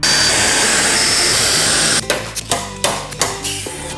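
A loud, steady drill whine runs for two seconds, then stops, followed by several sharp metallic hammer-like knocks at irregular intervals, close up, while drilling and riveting a Land Rover Defender's metal frame.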